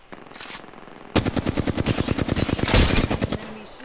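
An L-Star gun fires in Apex Legends gameplay. A short burst is followed by a longer sustained stream of rapid automatic shots, loud and close, lasting a couple of seconds.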